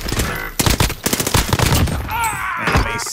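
Rapid gunfire in Call of Duty Warzone on the Rebirth map, a quick rattling volley of close shots packed into a few seconds, loud, with a brief electronic tone near the end.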